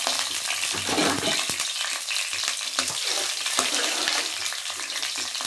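Small onions fry in a pan for chicken thokku, a loud continuous sizzle and crackle with scattered spatula scrapes and taps on the pan, close up and with no talk.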